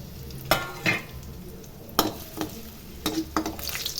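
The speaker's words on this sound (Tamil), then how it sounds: "வாங்கம்மா, திராட்சை வறுத்துக்கலாம்." Raisins fry in hot ghee under a soft steady sizzle. A spoon stirs and scrapes the pan in several sharp, close strokes spaced through the few seconds.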